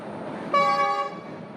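A Sri Lankan passenger train sounds a single clear horn blast, lasting about half a second before trailing off, heard at moderate distance over a quiet background rumble.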